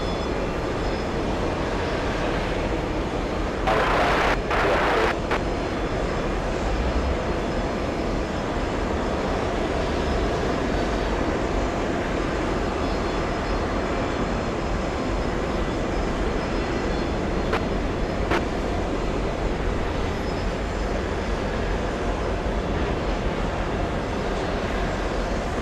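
A Delta jet at JFK airport produces a steady, moderately distant engine rumble and roar, with a couple of brief sharp clicks early on and no speech.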